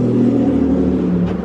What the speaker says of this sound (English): apologize for the car noises too, we're kind of right here